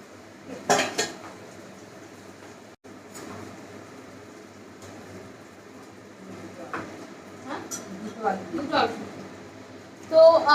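A spoon stirs spiced vegetables and boiled potatoes in a pan, scraping and clinking intermittently at close range while a person talks over the cooking.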